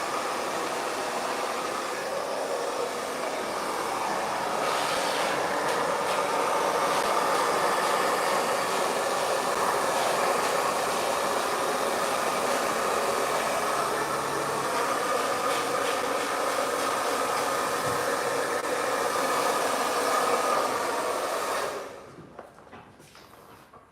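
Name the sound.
hair blow dryer running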